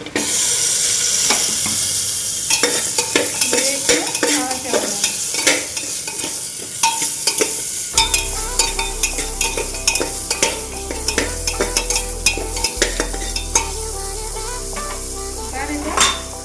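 Prawns stir-frying in a pan with oil, ginger, salt and a little turmeric, a steady loud sizzle with repeated scraping and stirring clinks of a utensil against the pan throughout.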